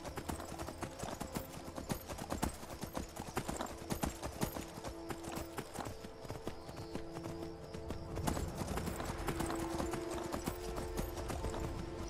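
Horse hooves clip-clop steadily in Skyrim as the mount travels, a brisk, even rhythm of hoofbeats over a soft bed of game music.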